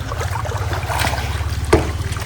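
Water sloshing and splashing as people wade into a hotel swimming pool in Alibag, a few soft splashes close by with one sharper splash near the end.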